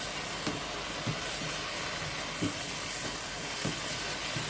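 Green pandan-flavoured sago stirred in a pot of fully boiling pandan-leaf water, with a steady bubbling hiss and soft periodic scrapes of the spoon against the pot, close and moderately loud, with no voices.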